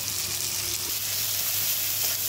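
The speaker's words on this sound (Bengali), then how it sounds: "ভালো করে এবার মা সবগুলোকে ভেজে নিচ্ছে।" Tomatoes, chilies, salt and turmeric sizzling in hot oil in a pan, a steady close frying hiss without a break and no talking.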